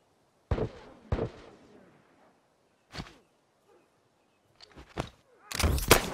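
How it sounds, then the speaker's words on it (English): Suppressed Frontier Rifle shots in a video game, a few sharp, muffled cracks spaced apart with quiet gaps between them, ending in a louder burst of impact noise. "This is a good thing about having a silenced Frontier Rifle, is you can take pot shots and you can get away with it here."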